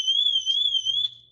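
The car alarm of a 1982 Ford Cortina MK5 1.6 automatic sounds a loud, close, steady electronic tone that wavers slightly in pitch for about a second before cutting off.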